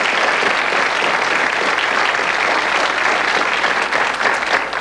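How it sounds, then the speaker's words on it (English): A television quiz show studio audience applauds a contestant in 1990, a steady, full wash of many hands clapping without pause from start to finish. "Round of applause for Daphne."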